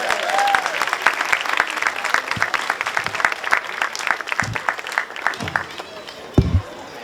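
A crowd at an outdoor Portugal Day flag raising in Lowell applauds a speaker, steady clapping sustained for about seven seconds with a few louder knocks near the end.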